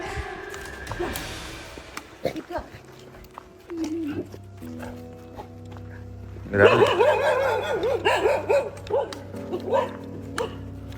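Street dogs in the town of Matheran bark and yip in rough bursts, growing louder and more frantic about halfway through, with several animals heard close by.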